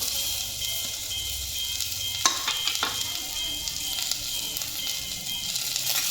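Chopped onion sautés in a little oil in a pan for homemade paneer masala, giving a steady, close sizzle throughout with a few sharp stirring clicks near the middle and no voices.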